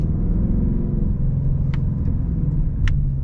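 A 2024 Ford Mustang GT's engine rumbles deep and loud from inside the car while downshifting into first, a steady low growl with a couple of brief mechanical clicks.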